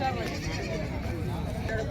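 Young lambs bleat briefly at a goat market in Vasmat, Hingoli, under nearby talking.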